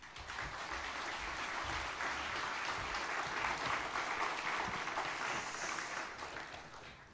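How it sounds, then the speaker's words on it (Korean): Sustained audience applause in a Korean church anniversary revival meeting as a guest lecturer comes forward, a steady, even wash of clapping from a large congregation, lasting several seconds with no voices over it. "나오실 때 큰 박수로 환영해 주시기 바랍니다"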